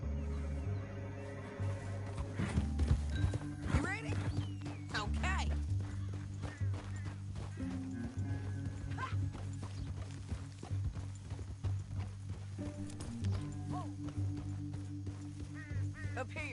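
Horse hooves clip-clop in an uneven, ongoing rhythm under a low musical drone in the video game Red Dead Redemption, with people talking over it and occasional whinnies.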